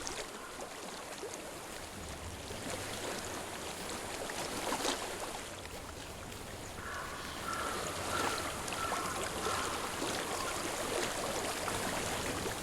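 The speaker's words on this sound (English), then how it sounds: "I hear water." Flowing stream water in the video game Hellblade: Senua's Sacrifice, a continuous broad rush and gurgle of moving water with a faint tonal hum joining partway through, steady and moderately close, no speech.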